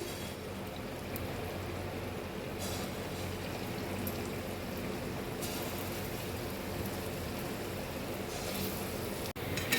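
Lentil fritters (bora) fry in hot oil, giving a steady, dense sizzle that holds evenly throughout with no talk.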